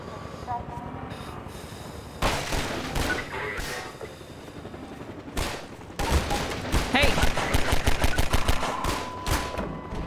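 Enemy gunfire aimed at the player in the video game Half-Life 2, with scattered single shots followed by loud, rapid automatic bursts that grow denser toward the end, close and harsh.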